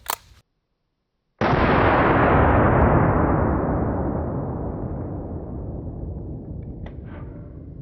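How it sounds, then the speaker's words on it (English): A single deafening blast from a .500 Magnum revolver fired outdoors, close and sharp, followed by a long rolling echo that slowly fades over several seconds. "I really don't know how guys just sit there and shoot cylinder after cylinder through a 500 Magnum"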